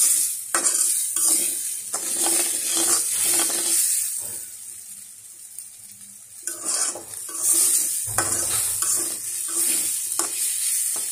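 Noodles cooking in a pan with meat and potatoes that were cooked beforehand, a steady close sizzle with repeated scraping stirs and clinks of a utensil against the pan, no talk.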